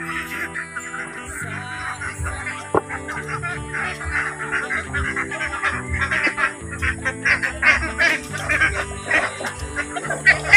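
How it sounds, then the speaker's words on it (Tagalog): Domestic ducks on a farm honking and quacking in a growing flock chorus, overlapping calls that build louder toward the end, with the flock taking flight. "Ang mga itik na lumilipad."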